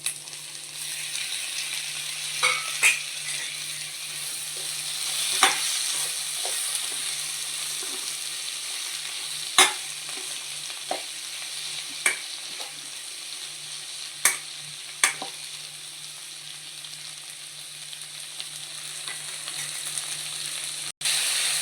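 Chopped tomatoes fry in a pan with a soft, steady sizzle, punctuated every few seconds by clinks and scrapes of a spoon stirring, fairly quiet and close with no talking.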